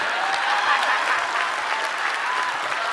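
An audience at a stand-up roasting competition claps for a comedian after his set, the applause dense and sustained, with a faint murmur of crowd voices mixed in.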